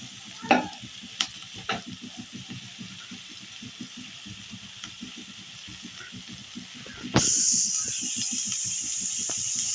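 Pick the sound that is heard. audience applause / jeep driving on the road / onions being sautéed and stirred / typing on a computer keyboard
onions being sautéed and stirred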